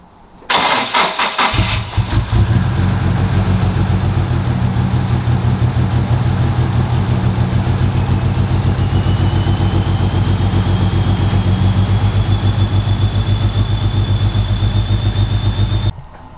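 A Nissan S15 SR20 fitted with an upgraded G25-550 turbo cranks briefly and fires up for its first start, then settles into a loud, steady idle. The engine runs close-up with no talking, and a faint whine gradually rises over the idle.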